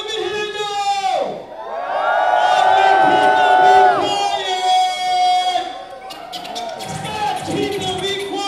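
Crowd at a live event roaring and whooping on cue, loud sustained shouts and cheers that swell, dip briefly, then surge again, with voices rising through the din.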